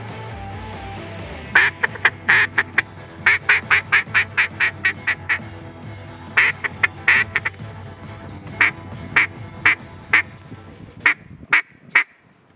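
Duck quacking during a duck hunt: a long series of loud, sharp quacks in uneven bursts over a low steady background hum, with no talking.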